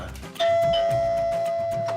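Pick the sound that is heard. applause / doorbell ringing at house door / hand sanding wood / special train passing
doorbell ringing at house door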